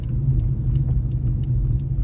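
A car drives along a road in the Toronto area during a neighborhood blackout, giving a steady low rumble. Faint high ticks sit over it, and no one speaks.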